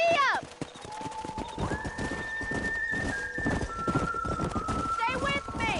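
Galloping horse hooves in the Red Dead Redemption video game, a steady fast clip-clop close up, with a whinny near the start and end and voices and a faint whistle-like tone above.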